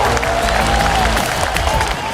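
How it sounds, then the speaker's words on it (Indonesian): A large crowd at an Indonesian political gathering claps and cheers loudly, a dense, continuous roar with a voice rising over it. "Tepuk tangannya dahsyat penuh rasa cinta."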